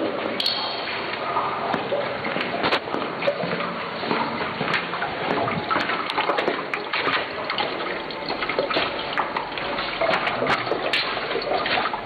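Water runs in a steady, continuous gush, a dense close rush that holds even throughout with no pauses.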